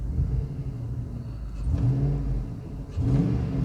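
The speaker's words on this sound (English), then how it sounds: "Looks like some flowmasters on here. So it sounds really, really good." A 2003 Hummer H2 with a 6.0L V8 and Flowmaster exhaust revs up twice, a loud, close, deep rumbling idle rising into two throaty bursts with no talking.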